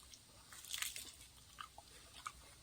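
Quiet, close crunching as a crispy pastry filled with pistachio cream is bitten, one sharp crackly bite followed by a few smaller crunches and chewing sounds.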